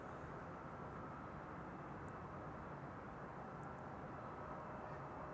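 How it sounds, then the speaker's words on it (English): An Embraer 190 airliner arriving at Amsterdam Schiphol gives a faint, steady distant jet rumble with no talking. "Next up is an Embraer 190."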